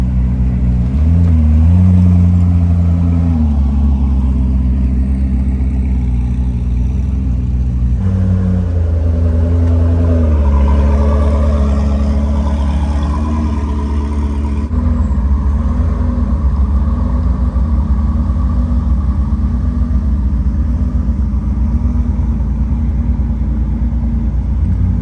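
A Koenigsegg Jesko supercar's engine rumbles and revs loudly at close range, a steady deep drone with rising and falling pitch swells, no voices over it.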